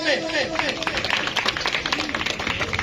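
A crowd at a PML-N political rally in Karachi applauds as Nadir Bhai is called to the stage, with dense, steady clapping running throughout and a voice briefly audible over it at the start.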